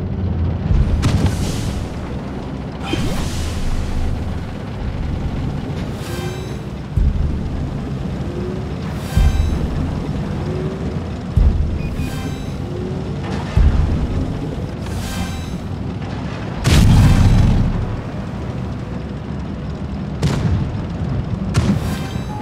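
Tank cannon fire and shell explosions from World of Tanks Blitz, with a P.43 bis battling in Himmelsdorf: repeated booming shots every few seconds over a steady rumbling battle bed, one heavier blast near the end.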